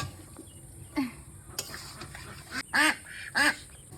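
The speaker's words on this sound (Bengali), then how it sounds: "দেখো আমাদের হাঁসগুলো কত বড় বড় হয়ে গেছে" Grown domestic ducks let out several short nasal quacks a few seconds apart, the loudest pair near the end, over a quiet background.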